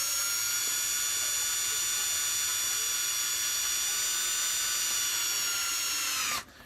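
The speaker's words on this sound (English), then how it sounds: "I'm just going to take this and try not to let the drill walk around anywhere." A power drill whines at a high, steady pitch while boring a hole, running continuously and close before abruptly stopping near the end.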